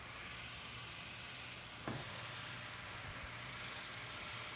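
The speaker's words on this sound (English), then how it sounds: "As it's actually searing, the steak itself is shrinking." A ribeye steak sears on a flat griddle under a steak weight, giving a steady, even sizzle and hiss throughout, with one brief clank partway through and no talking.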